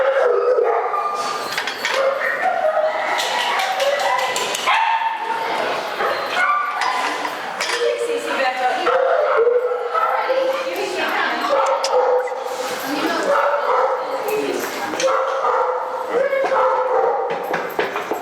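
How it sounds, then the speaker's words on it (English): A group of dogs barks, yips, whines and howls continuously and loudly, the overlapping calls crowding each other without pause. "Bunch of dogs coming in."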